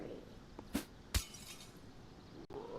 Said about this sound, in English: The zombies can break glass